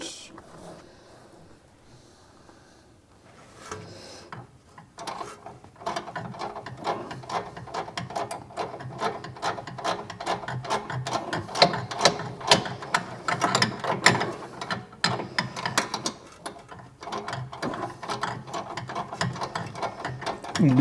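A spanner ratchets on a suspension arm bolt of a Rover 75, in quarter turns at a time, producing rapid, irregular metallic clicking bursts that build in density and continue throughout, close and fairly loud.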